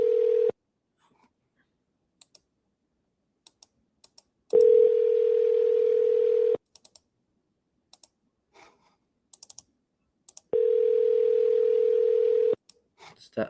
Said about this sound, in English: Let's call this person back one more time, see if they pick up the phone.